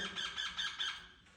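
Shrill parrot squawks repeat in quick bursts, fairly close, with a busy, raucous rhythm before trailing off.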